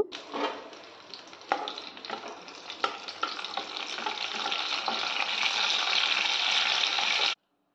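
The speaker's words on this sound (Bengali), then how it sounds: "এবার সর্ষে তেল দিয়ে দিয়েছি ভালো করে একটু ভেজে নেব" Bay leaf, cinnamon and cardamom fry in mustard oil in a pan, giving a close, crackling sizzle that starts with a few sharp pops and stirring scrapes, then builds into a steady, loud hiss before stopping abruptly.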